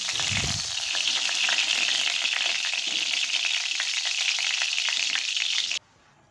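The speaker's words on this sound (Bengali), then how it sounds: "তারপর একই কড়াইতে তেল দিয়ে দিয়ে দিলাম কাঁচকলাটা কাঁচকলাটা হালকা ভেজে তুলে রাখবো" Steady, loud sizzle of plantain frying in hot oil, a continuous crackling hiss that cuts off abruptly near the end.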